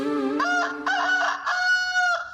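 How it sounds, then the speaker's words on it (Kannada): A rooster crows close by in a single long, warbling cock-a-doodle-doo with several rising and falling segments, heard clearly on its own. "ಏ ಯಾವನವನು ಮಧ್ಯರಾತ್ರಿ ಕೋಳಿ ಕೂಗ್ಸೋನು?"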